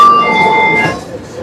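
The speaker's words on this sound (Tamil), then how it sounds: "இப்போ நம்ம ட்ரெயின் போகுது." A moving passenger train on a long-distance journey, heard from inside as a close, steady rolling rumble with sustained high whining tones that fade partway through.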